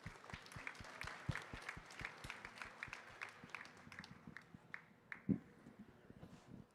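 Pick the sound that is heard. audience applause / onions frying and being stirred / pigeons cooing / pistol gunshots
audience applause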